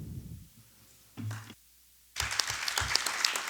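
An audience at a documentary screening breaks into applause, a dense burst of clapping that follows brief murmurs and a short pause.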